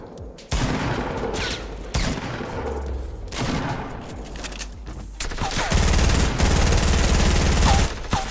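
Bursts of automatic gunfire from a Fortnite Battle Royale match, with loud close rapid volleys that start and stop repeatedly and then settle into a sustained dense stream toward the end.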